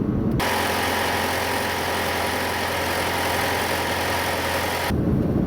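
Alfa Romeo Giulia 2.0 Super petrol engine running steadily at a constant idle-like drone, a close, even mechanical hum that holds unchanged for several seconds before cutting off.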